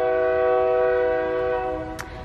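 A passing train sounds a loud, steady multi-tone horn close by that holds for about two seconds and then starts to fade.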